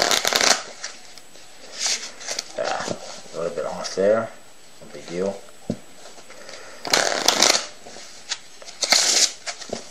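Playing cards riffle and snap in several quick bursts, close and crisp, while someone talks between shuffles.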